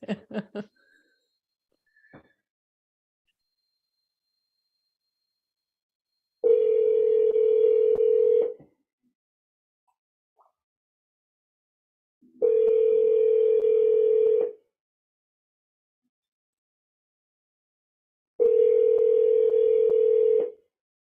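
A telephone dial tone heard after a call disconnects: three separate steady tone bursts of about two seconds each, spaced by silence and loud and close, preceded by a few faint clicks.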